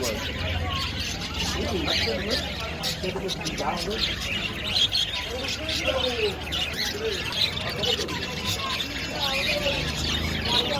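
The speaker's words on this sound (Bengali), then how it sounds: "বাজিগার পাখি এক এক জোড়া পাখি ছয়শো সাতশো টাকা করে জোড়া" Budgerigars and other cage birds chirp and tweet steadily at the Nayabati livestock and bird market in Khalishpur, Khulna, with pigeons cooing nearby and a constant crowd babble of market voices underneath.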